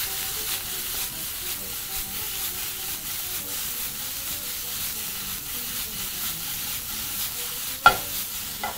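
Pork tossed in a frying pan, a steady low sizzle with faint stirring and a sharp clack near the end, mostly alone at moderate level.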